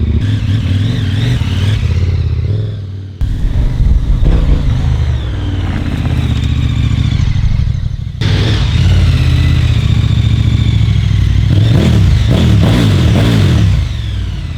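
A KTM motorcycle engine runs loud and close, idling with a rough throb and then revving up, with a brief drop in between.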